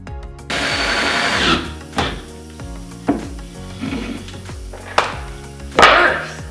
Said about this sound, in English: So we got this right angle attachment for the drill so we can get under there.